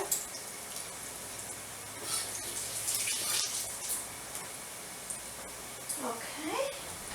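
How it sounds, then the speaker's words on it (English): Potatoes rinsed under a running kitchen tap, a soft, steady stream of water splashing faintly with small clatters, while a person talks over it. "Now if you rinse them like that and you get the starch stuff off of them"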